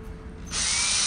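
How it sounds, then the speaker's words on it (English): A power drill bores a small pilot hole through a light fitting inside a vintage Airstream trailer, a brief soft lead-in followed by a loud, steady high-pitched whir that holds close and constant to the end. "gonna drill a little pilot hole"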